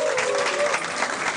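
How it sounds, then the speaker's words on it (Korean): Steady applause from a crowd at a StarCraft league match fills the short stretch, dense and even throughout with no voices standing out. "박수 한번 부탁드릴까요"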